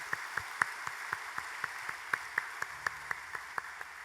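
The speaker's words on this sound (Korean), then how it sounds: "하나님께 박수 올려 영광의 박수 올려드립시다" A church congregation applauds at an early-morning special prayer meeting, with sharp claps landing in a steady, fairly even rhythm, moderately close.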